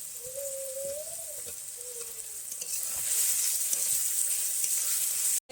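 Chopped onion and capsicum frying in a pan for mutton curry, a continuous close hiss of sizzling that grows louder partway through as the vegetables go in, with a faint whistle-like tone early on and an abrupt cutoff at the end.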